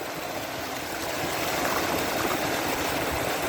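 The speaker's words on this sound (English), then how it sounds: "This is a wee waterfall" A small waterfall bubbling and splashing steadily beside a road in the Scottish Highlands, a close, loud, continuous rush of clear water with no voices.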